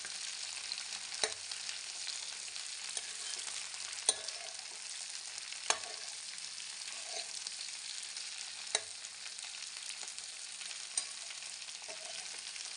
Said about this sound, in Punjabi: ਭਿੰਡੀਆਂ ਨੂੰ ਆਪਾਂ ਚੰਗੀ ਤਰ੍ਹਾਂ ਮਿਕਸ ਕਰ ਦਿੰਨੇ ਆ ਤੇਲ 'ਚ ਚੰਗੀ ਤਰ੍ਹਾਂ ਤੇਲ ਦੇ ਵਿੱਚ ਰਲਾ ਦਿੰਨੇ ਆ